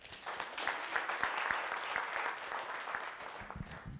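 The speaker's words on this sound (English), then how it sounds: "Round of applause for that." Audience applause at a coaching celebration summit, a dense steady clapping from a room of attendees that holds throughout and fades slightly near the end.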